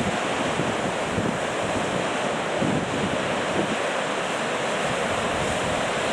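Ocean waves roll in at Sleaford Bay on a calmer day, a continuous wash of surf with swelling breakers and steady wind buffeting the microphone, no voices.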